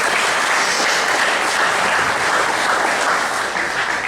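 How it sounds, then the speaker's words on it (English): Loud, sustained applause from an audience honoring volunteers at a golf championship awards presentation, dense steady clapping filling the whole stretch without a break. "Let's give them a round of applause too,"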